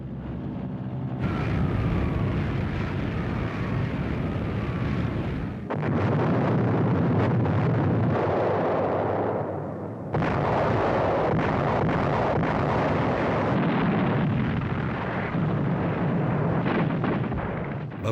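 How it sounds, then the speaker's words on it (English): Allied bombing of the hilltop monastery in wartime Italy: continuous loud roar of aircraft engines mixed with heavy booming explosions, sustained throughout with brief dips, no voices. "In desperation, the Allies bombed the historic monastery on the summit."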